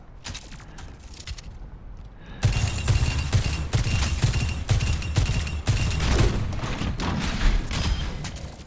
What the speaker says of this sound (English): Railgun powered and ready to fire.